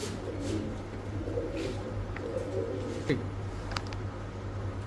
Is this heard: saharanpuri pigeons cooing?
yes